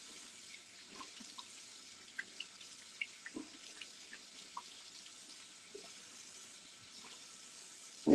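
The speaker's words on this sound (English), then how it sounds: "I'm going to rinse off real quick." Water runs softly from a tap while someone rinses off after shaving, a faint, steady trickle with scattered small splashes and drips.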